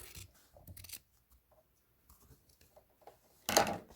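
Scissors trimming the edge of quilt binding fabric, a few quiet close snips and rustles ending in one louder crisp cut, no voices.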